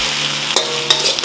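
Beef chow fun with eggs stir-fried in a wok makes a loud, steady sizzle, with brief scraping and tossing strokes of the spatula and no voices.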